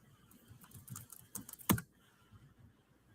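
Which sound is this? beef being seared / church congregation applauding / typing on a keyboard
typing on a keyboard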